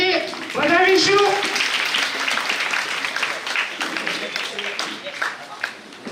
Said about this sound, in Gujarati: આપણે એમને જોરદાર તાળીઓથી વધાવીશું